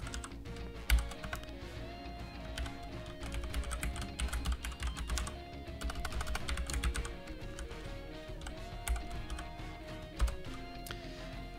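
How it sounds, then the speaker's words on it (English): Uneven typing on a computer keyboard, steady key clicks running throughout alongside continuous musical background. "Gotta warm up my hands. My typing is a little uneven right now."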